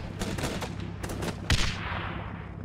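Gunfire in the video game Guns Up!, quick bursts of shots with a heavier blast in the middle that trails off into a fading rumble, at moderate volume with no talk.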